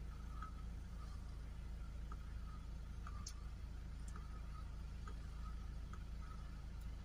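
A Honda Accord 2.2 diesel engine idles in a low, steady hum, with faint clicks and ticks scattered over the drone; the car has a DPF restriction fault from ash accumulation.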